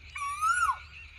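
A black Asian koel gives a single clear rising whistled call that swells and then dips at the end, close and distinct over a low outdoor rumble.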